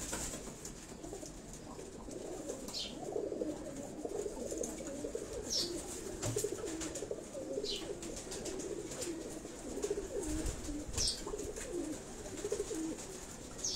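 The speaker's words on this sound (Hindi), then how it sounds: "ये नर है, ये नर कबूतर थे।" Male pigeons cooing on a Karachi rooftop, soft repeated low coos over a steady outdoor background, with a few faint higher chirps scattered throughout.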